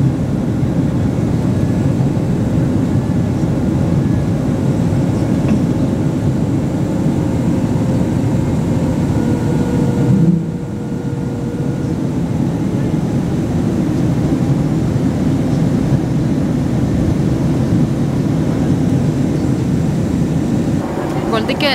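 An airliner takes off on a flight to New York. Its engines give a loud, continuous broadband roar that holds steady throughout, with one brief dip partway through.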